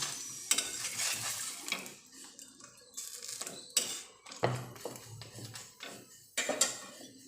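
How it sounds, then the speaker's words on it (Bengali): Steady oily sizzling of an egg paratha frying in a pan, with occasional sharp clicks and scrapes of a utensil against the pan. "ভাজা করে নেব পরোটাটাকে।"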